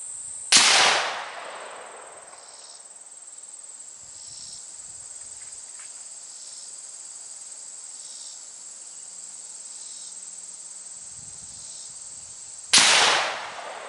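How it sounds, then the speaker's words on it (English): A Rossi R95 lever-action rifle fires Federal blue box ammunition outdoors, two sharp, loud shots about twelve seconds apart with ringing decay, steady insect chirping in between. "I just shot three of the Federal blue box"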